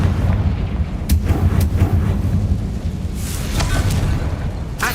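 Confringo blasting spell from the Hogwarts Legacy video game, giving repeated sharp bursts and rumbling booms over a continuous loud low-frequency background, with several cracking hits across a few seconds.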